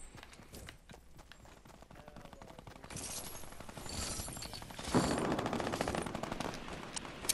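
Gunfire from a Fortnite Battle Royale match, including sniper rifle shots, cracks out as a steady stream of sharp reports that grows louder and denser toward the end, with no talk over it.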